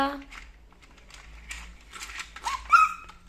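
A voice imitates a dog's bark with a short vocal sound, amid quiet speech and light background rustling.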